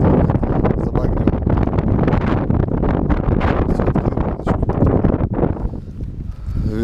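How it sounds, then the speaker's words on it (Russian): Strong, hurricane-force wind buffets the microphone while fishing at the upper Beloyarka reservoir, a loud continuous roar and rumble that fills the whole clip with no break. "Ветер вообще все летает."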